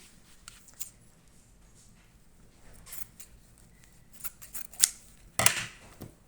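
Scissors snip through fabric for a stuffed elephant teether toy, a few quiet scattered cuts early on, then a cluster of sharper, louder snips toward the end, close by with no talk.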